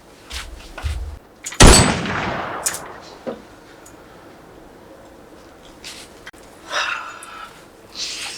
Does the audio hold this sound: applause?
no